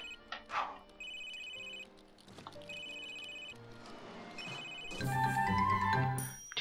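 A telephone rings in The Sims 3 video game, its electronic chime repeating in several evenly spaced bursts over soft in-game background sounds, and the game music swells louder near the end.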